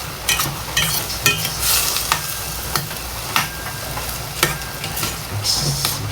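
A rice mixture is stirred and fried in a pan, with steady sizzling and repeated scraping strokes of a utensil against the pan, close and fairly loud with no talking.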